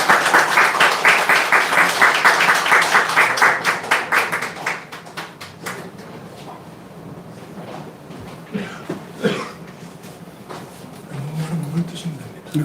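Warm, energetic applause in a church congregation welcoming a speaker, loud and rhythmic at first, then thinning into scattered claps as a voice begins speaking over the hall.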